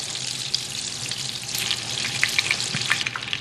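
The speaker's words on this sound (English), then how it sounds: "Get that butter melted down into the oil." Butter melting into hot oil in a pan, a dense close crackling sizzle with small pops throughout and no voices.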